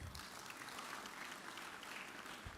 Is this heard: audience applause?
yes